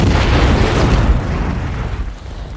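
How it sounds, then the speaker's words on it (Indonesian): A landmine explodes in a war film set on a mined beach: one loud, close, broadband blast that roars and rumbles for about two seconds, then cuts off abruptly. "Ranjau itu meledak karena terpicu oleh muntahannya."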